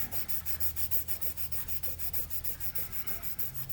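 A hand sander rubs burrs off a model ship part left by filing, a quiet rhythmic back-and-forth scraping at a steady quick pace, close and alone.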